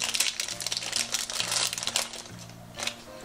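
Plastic packaging around a My Little Pony Rarity toy crinkles and crackles steadily as it is opened, close and moderately loud over a faint low hum.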